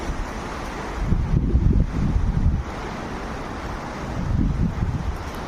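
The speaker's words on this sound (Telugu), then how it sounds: "చూశారు కదా ఎంత పెద్ద గాలు వస్తున్నాయో" Strong wind buffets the microphone in heavy, low rumbling gusts that swell and ease, loud and close with no voices.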